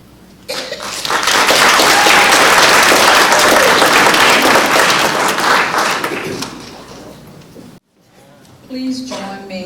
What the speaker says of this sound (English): Please join me in giving the elementary education teachers a round of applause.